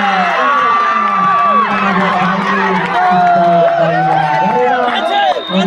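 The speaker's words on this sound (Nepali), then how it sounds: "दर्शकहरूबाट निकै हुटिङ आइरहेको छ" Spectators hoot, whoop and shout at an inter-school semifinal match during a municipal-level President's Running Shield competition in Sankhuwasabha, Nepal. A loud, continuous crowd din runs throughout, with rising whistle-like hoots cutting through and voices mixed in.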